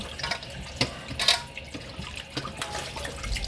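Meat for Mexican posole rinsed under a running kitchen tap, a steady close splash and gurgle of water with brief sharper spatters as the pieces are handled in the stream.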